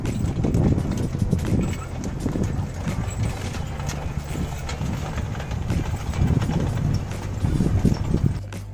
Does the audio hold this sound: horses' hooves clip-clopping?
yes